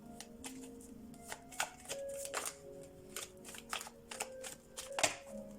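Tarot cards shuffled by hand at close range, a series of crisp riffling bursts and soft slaps arriving in irregular pulses, quiet and without talk.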